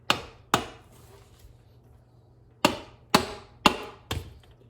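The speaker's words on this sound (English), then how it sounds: "Get my hammer. Make sure this is all square. And just a matter of tapping this thing in." Sharp hammer taps on a hard part of a 2002 Suzuki Carry, tapping it into place: two quick strikes, a pause, then four more in a steady rhythm, close and clear.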